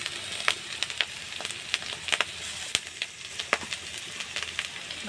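Spices and vegetables, including tomato, green chilli and salt, fry in a pan for a fish jhal, with a soft steady sizzle and frequent light clicks of stirring.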